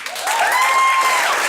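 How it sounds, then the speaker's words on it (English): An audience at a live comedy show claps steadily for a comedian, a dense, sustained round of applause with a cheer or whistle rising above it, heard on its own without talk. "Big round of applause for your last performer, Wendy Weiss."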